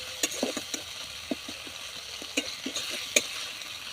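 Ground cumin, coriander and chili paste frying in oil for a potato and tilapia fish curry, a steady sizzle punctuated by repeated sharp taps and scrapes of a spoon against the pan, close, without talk.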